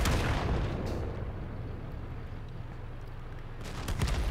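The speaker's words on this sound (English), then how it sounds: "An E100's turret front is no match for heat rounds, and sometimes you just gotta fire them." A tank cannon fires a HEAT round in the World of Tanks video game against a Panzer E100, a booming blast at the start followed by a rumbling decay and a second heavy report near the end.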